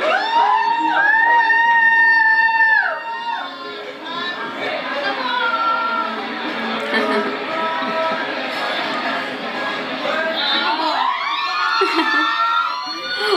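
A lively party crowd screams, shouts and cheers loudly with chatter and laughter throughout, a high sustained scream rising over the noise near the start and again near the end.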